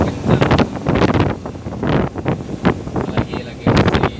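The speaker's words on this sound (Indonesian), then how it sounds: "Jalur sini anginnya sangat kencang." Strong seasonal east wind on a coastal road in Sabang buffets the microphone in loud, uneven gusts, with roaring bursts separated by brief lulls.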